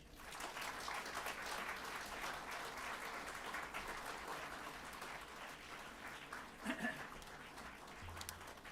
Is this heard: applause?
yes